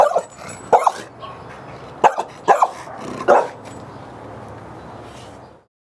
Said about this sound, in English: Here she reapproaches to bark in an aggressive manner